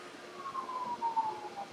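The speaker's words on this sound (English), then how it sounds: "I couldn't tell if that was a fire truck or a police car." A faint, distant siren wails in a slowly falling tone beneath low background noise.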